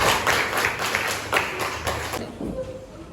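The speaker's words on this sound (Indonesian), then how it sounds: "kita beri tepuk tangan untuk anak-anak" A class of schoolchildren claps in quick uneven bursts in a classroom, then the clapping stops and the teacher speaks briefly.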